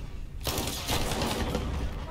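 Gunshots in Modern Warfare burst in after a brief quiet, becoming a loud rapid volley of automatic fire that rattles on steadily to the end.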